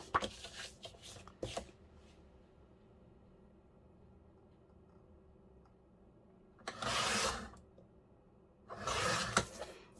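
A paper file folder is cut with scissors in two bursts of crisp slicing, each lasting about a second, close and clear, after some rustling and handling at the start and a quiet pause between.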